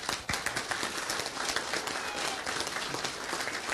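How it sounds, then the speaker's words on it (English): A City of La Verne council meeting audience gives a sustained round of dense applause, many hands clapping steadily and fairly close for the whole stretch. "Round of applause for this man."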